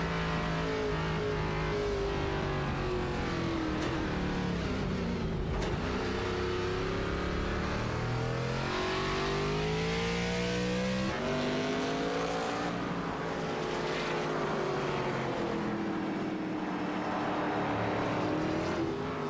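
Race cars lapping Sonoma in an ARCA series sim race, their engines a steady loud drone whose pitch rises and falls through shifts and corners, with no break throughout.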